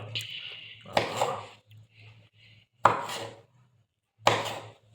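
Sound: cutting mango and plum into small pieces

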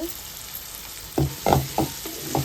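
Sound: tomato paste frying in oil with onions

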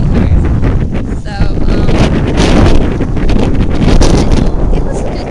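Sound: wind blowing on a beach by a pier

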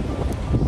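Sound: strong wind outdoors

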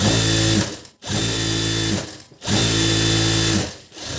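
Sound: sewing machine stitching a blouse

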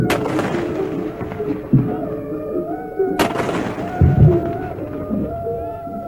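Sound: 21-gun artillery salute

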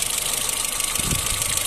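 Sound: Renault Clio engine strange noise when pressing accelerator

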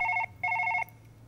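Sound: telephone ringing in Surgeon Simulator VR video game

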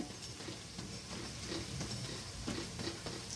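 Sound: onion bajji frying in oil

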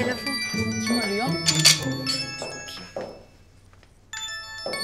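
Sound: mobile phone ringtone ringing

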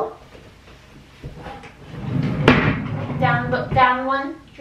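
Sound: drawer being opened

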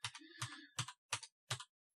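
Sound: clacking of a computer keyboard connected to an Xbox

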